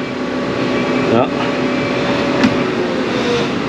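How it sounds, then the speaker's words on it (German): Steady whoosh of a car's air conditioning blowing inside the cabin, an even close hum throughout with a brief rustle and small click over it. "Klimaanlage geht."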